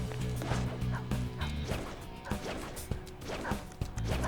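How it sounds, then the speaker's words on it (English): Guard dog barking in the video game Persona 5 Royal, repeated sharp barks and yips over a busy, loud game soundtrack with crashes and hits. "A guard dog."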